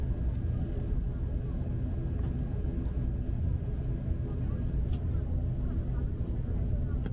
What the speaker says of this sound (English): We are still taxiing,